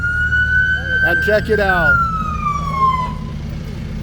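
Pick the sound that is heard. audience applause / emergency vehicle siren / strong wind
emergency vehicle siren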